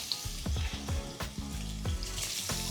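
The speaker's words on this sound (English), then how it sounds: "So long as you hear that sizzle" Hot oil sizzles and crackles steadily up close, with occasional stirring clatter and low thumps.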